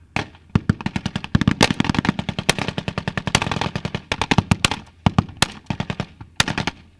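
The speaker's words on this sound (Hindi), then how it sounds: "सिर्फ यहाँ बंदूकें बोल रही हैं, तोप गरज रही हैं" Dense gunfire at a Syrian Army post in combat against ISIS, rapid bursts of automatic rifle and machine-gun shots with sharp louder cracks and booms scattered through, continuous and close, no speech.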